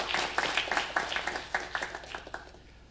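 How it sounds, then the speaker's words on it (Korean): A congregation claps together during a Sunday Christmas Eve service at a church, a rapid patter of many hands that fades gradually toward the end. "박수로 감사의 인사를 드립니다."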